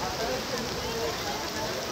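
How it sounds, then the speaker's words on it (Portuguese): Heavy rain falling steadily, a dense even hiss of drops on surfaces throughout, with a voice talking over it. "Olha que chuva, menina."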